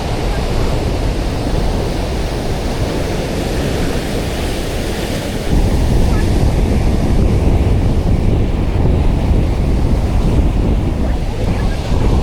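Ocean surf and gusting wind batter the shore during a fishing trip at Bluff, New Zealand, a loud continuous roar with heavy wind buffeting the microphone and a surge partway through.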